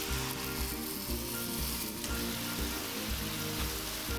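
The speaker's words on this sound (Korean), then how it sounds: "가지가 익으면 양념장을 넣고 볶아주세요." Eggplant stir-frying with seasoning sauce, a dense, even sizzle like light rain on a hot pan with faint stirring noises beneath it, close and continuous with no voices.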